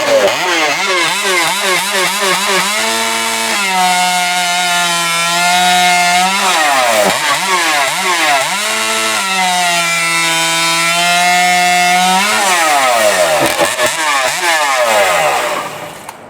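A chainsaw runs loud and close, its engine revving up and down in repeated pulls, then holding a steady high whine as it cuts through wood before winding down at the end.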